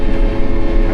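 Swather engine runs loud and close in a steady, droning rev, heavy and continuous for under a second with no voices.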